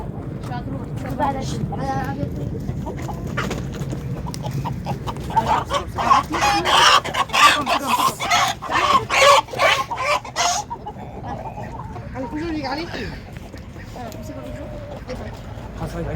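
Roosters cluck and squawk close by while several people talk throughout, with a loud flurry of flapping and squawking in the middle as the birds are grabbed for slaughter.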